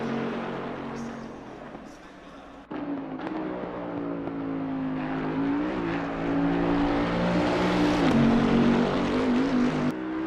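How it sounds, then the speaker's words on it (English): A race car engine in a racing video game at Imola, droning loud and steady with harmonic tones that climb and dip through gear changes. A voice speaks over it now and then. "Okay, car sounds a bit too loud"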